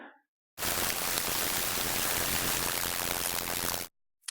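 A loud, dense synthesized tone warbles so rapidly it blurs into a harsh, noise-like roar, holding steady for about three seconds before cutting off abruptly.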